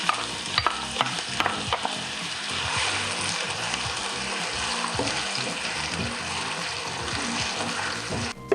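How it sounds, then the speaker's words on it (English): Diced onions sauté in shimmering oil over medium heat for a Cameroonian Njangsa sauce, giving a steady, close sizzle with stirring scrapes and a few sharp clinks at the start and end. "Then add the diced onions to saute."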